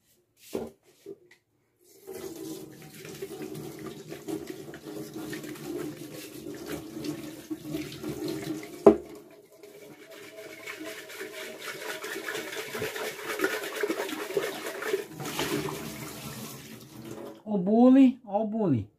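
A kitchen tap runs steadily while dishes are washed, a continuous hiss broken by a sharp knock midway, with a voice speaking briefly near the end.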